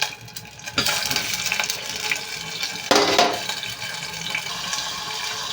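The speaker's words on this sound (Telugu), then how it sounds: "ఈ పన్నీర్ని అయితే ఇలా ఫ్రై చేసుకోవాలండి." Paneer cubes drop into hot oil in a pan and fry, giving a soft hiss with a couple of louder splashing sizzle bursts as pieces go in, and no talking.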